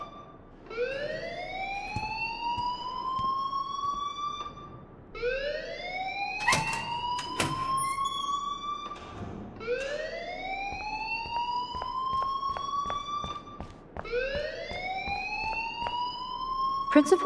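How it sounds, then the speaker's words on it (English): A school alarm in the Life is Strange video game wails in four repeated rising siren sweeps, loud and steady, with faint voices speaking under it. "please turn off that alarm since that's your job."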